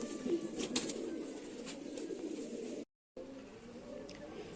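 Racing pigeons returning from a 20 km race in Bangladesh coo in low murmurs continuously at close range, with a brief dropout partway through and faint rustling around it.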